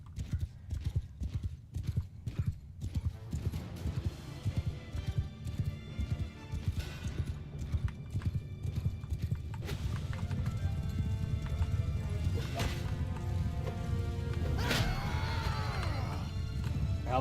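Horse archers' hooves gallop in the medieval battle game Mount & Blade II: Bannerlord, a rapid, continuous clip-clop that thickens as more riders close in, with a whinny near the end.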